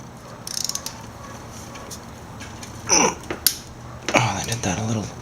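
Timing belt tensioner being removed from a Ford Focus 2.0 SOHC engine: scattered close metallic clicks, ratcheting and clanks of tools and parts, with a few sharper knocks near the end.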